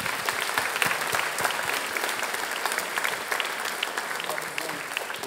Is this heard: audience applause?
yes